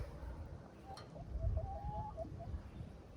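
Soft clucking and murmuring chicken calls from a coop and run sit low under a steady outdoor hum, fairly faint, with a few short chirpy notes in the middle.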